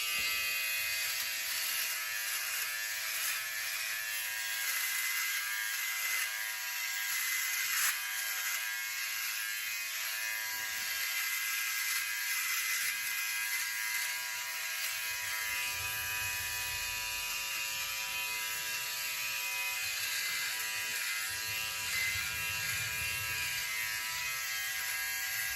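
A Philips OneBlade electric razor buzzes steadily and close while gliding over skin, with a constant high whine and slight shifts in tone as it moves, with no talking.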